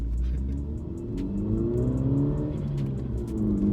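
A modified Mini Cooper S engine rumbles low and steady nearby, with a few sharp crackles and pops from the exhaust breaking through on top.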